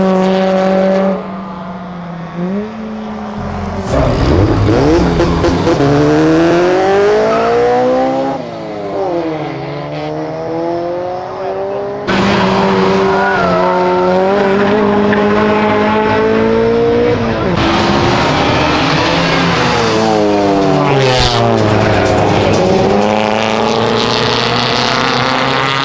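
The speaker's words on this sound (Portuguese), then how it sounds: "ronco de SI não tem igual" Subaru race car engine roaring loudly around a track, rising and falling revs with gear changes, close and continuous throughout with no talk.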